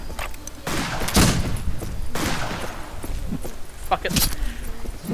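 Gunfire from the Western shooter Fistful of Frags, a cowboy-era multiplayer game: several loud, sharp shots burst out across the stretch, with a scuffling clatter of game effects and a voice talking over the action.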